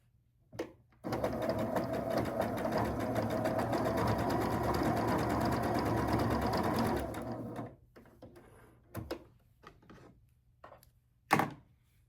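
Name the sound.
sewing machine stitching a quilt block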